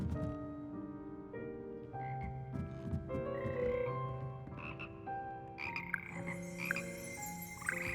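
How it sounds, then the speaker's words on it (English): A chorus of frogs croaks from the Hogwarts Frog Choir in Hogwarts Legacy, their overlapping tonal calls carrying along moderately for several seconds with a faint brighter hiss creeping in near the end. "Here perched the slimy yet symphonic frogs that comprise the Hogwarts Frog Choir."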